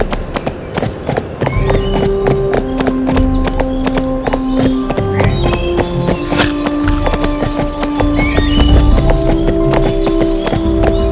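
Bright, bell-like pickup chimes from silver coins in Barbie Horse Adventures on PlayStation 2 ring out repeatedly over steady clip-clop hoofbeats and game music, with several chimes layered in quick succession.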